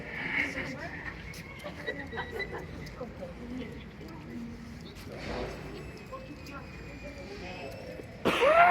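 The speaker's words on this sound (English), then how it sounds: "I do apologise if you hear me coughing" Outdoor street ambience in Manchester with distant chatter, then a couple of short throaty coughs from someone recovering from illness, the last one loud and close near the end.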